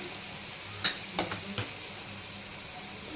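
Chopped onion sizzles in a pan with cumin powder, a soft steady frying hiss broken by a few brief stirring scrapes, close and fairly quiet.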